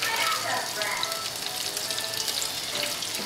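Collard greens simmer and sizzle in a pot, a steady broadband hiss of bubbling and steam that stays even and continuous throughout, close by with no one talking.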